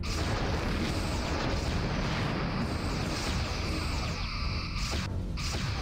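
Photon torpedo volleys firing and bursting in a Star Trek starship battle game, a dense barrage of booming blasts and crackling explosions rolling on without a break, heavy and loud throughout.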